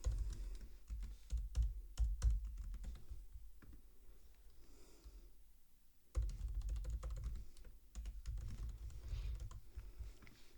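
A password is typed on a computer keyboard in quick, close bursts of clicking key presses, with a short quieter pause midway before a second run of typing.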